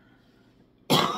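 A woman coughs once, a sharp, loud, close burst that breaks abruptly out of near silence near the end.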